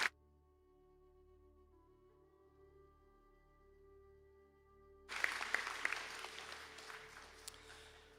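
Audience applause for graduates at a college conferring ceremony in Sligo breaks out after several seconds of steady low hum, then continues as a dense, fairly loud wash of clapping to the end.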